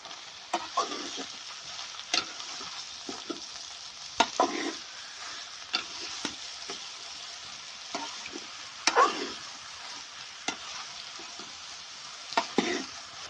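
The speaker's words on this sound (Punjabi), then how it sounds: "ਤੋਰੀਆਂ ਨੂੰ ਮਸਾਲੇ ਵਿੱਚ ਚੰਗੀ ਤਰ੍ਹਾਂ ਮਿਕਸ ਕਰ ਦਿੰਦੇ ਆ" Ridge gourd (tori) being stirred into spices in a pan, soft sizzling under repeated scraping stirs of a spoon against the metal, irregular strokes close up with no voices.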